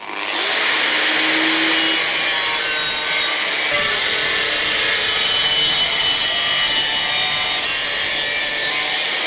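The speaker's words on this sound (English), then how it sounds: "I'll just trim that extra bit off now" Trimming off excess material while shaping a motorcycle seat for a BMW project, a continuous close rasping, grinding cut that runs steadily without pause and with no talk.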